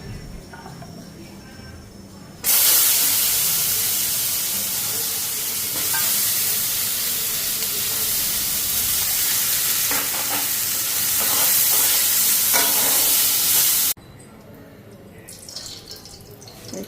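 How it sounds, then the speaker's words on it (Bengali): Potatoes frying in a pan give a loud, close sizzle that bursts in suddenly, continues with stirring scrapes and drips, then cuts off, with quieter kitchen sounds before and after. "বাবুর জন্য আলু ভাজাটা বসাই"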